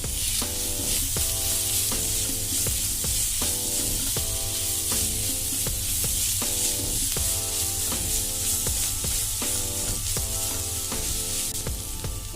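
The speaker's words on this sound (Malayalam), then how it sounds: "ഇനി ഇതിലേക്ക് ക്രഷ് ചെയ്ത് വെച്ച ബീഫ് ഇട്ട് കൊടുക്കാം." Crushed beef sizzles hard in a hot pan, a loud continuous frying hiss with periodic scraping stir strokes, filling for a beef bread pocket; no voices.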